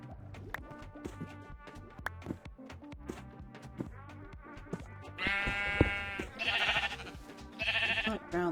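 Minecraft sheep give several loud, wavering bleats in the second half, closely spaced and prominent, after a stretch of clicky game noises and soft background music.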